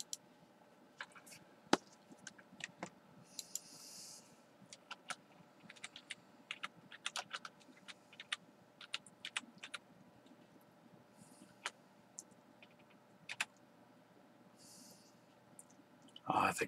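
Keys on a computer keyboard clatter in scattered bursts and single taps during a live game stream, moderately close, over a low steady hum with a few brief louder clicks near the end.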